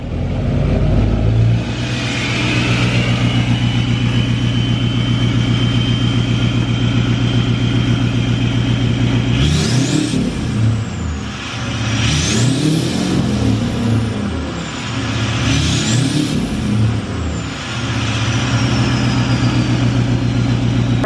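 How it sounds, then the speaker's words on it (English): Tuned 2020 Duramax diesel truck on 40-inch tires rumbling at idle inside an enclosed space, then revved hard three times in a row, each surge swelling loudly and falling back to a deep steady idle. "I want to try to get some exhaust notes too, especially because it's enclosed in here."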